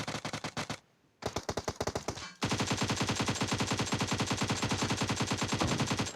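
Automatic gunfire in the mobile battle royale game BGMI: loud, rapid, rhythmic bursts of machine-gun shots, a brief pause, then a long sustained stream of fire.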